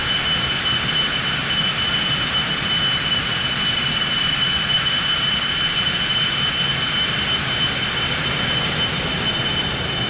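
Twin jet engines of a Citation X at full takeoff thrust in the X-Plane flight simulator, a loud, steady, broadband roar with a thin high whine that holds unbroken throughout.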